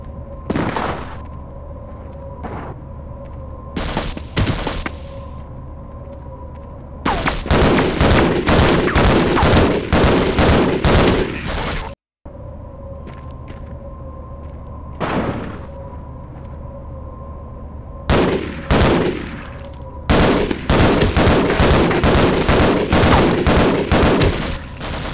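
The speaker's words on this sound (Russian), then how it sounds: "Кто стреляет?" Gunfire in the Half-Life video game crackles in loud, dense bursts of rapid shots that repeat over a steady mechanical background hum, with quieter single shots and clicks between the volleys.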